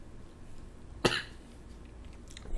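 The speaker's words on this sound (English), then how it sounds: "so I can cut out my coughing over it" A single sharp cough from a podcast host recording at a microphone, sudden and fairly close, standing alone against a quiet room tone with no talk.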